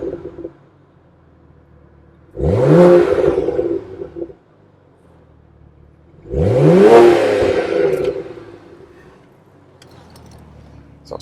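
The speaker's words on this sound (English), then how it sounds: "And do a little bit of revving." A 2011 BMW 1 Series M in Alpine White revs twice while parked, each burst of engine roar rising and falling over a couple of seconds with a quiet idle between, close and loud with no talking.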